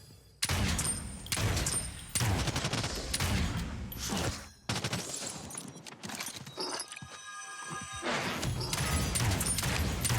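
Rapid bursts of automatic gunfire from a battle royale video game, loud and close, firing in long rattling strings broken by brief pauses, with no talking.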